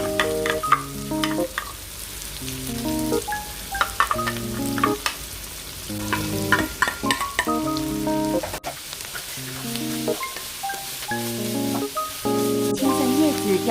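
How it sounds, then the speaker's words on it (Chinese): Scallion, garlic, ginger and green chili stir-fry in hot oil in a wok, a steady loud sizzle with scraping stirs throughout, while background music plays along. "热锅下油，依次加入大葱、蒜、 姜、青辣椒和青蒜。"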